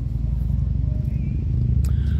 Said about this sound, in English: some idiot on a loud motorcycle goes by